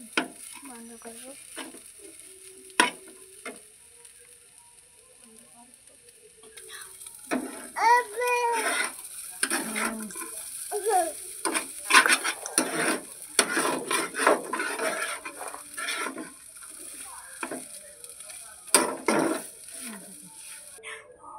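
Egg chowmein frying in a pan gives a soft sizzle while it is stirred, with scraping and rasping strokes of a spatula against the pan, rhythmic and close, growing busier in the second half.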